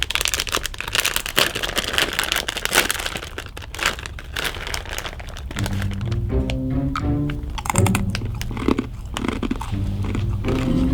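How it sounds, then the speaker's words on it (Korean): Crisp crunching and crackling from chewing a puffed Korean traditional grain snack, close up and fairly loud, with steady irregular bites throughout. "이것도 바삭바삭한데 조금 거기 팝콘 팝콘 같은데"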